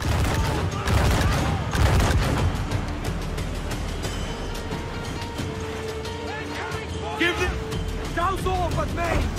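Ship cannons and gunfire in the Assassin's Creed 4 Black Flag naval combat game, with booming blasts and crackling volleys under loud shouted crew voices and clattering battle noise.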